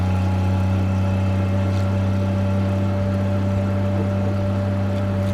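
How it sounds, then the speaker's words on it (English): A 1967 Triumph Vitesse 2-liter inline six-cylinder engine, fitted in a 1981 Marlin Roadster kit car, idles close by with a steady, even low hum and no talking over it. "inline engine, or inline 6-cylinder engine. It's 2 liters."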